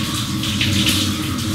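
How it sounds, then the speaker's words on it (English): Water runs steadily from a tap into a sink, a constant close rushing with no break. Nothing else is heard over the flow. "far more water is actually flowing"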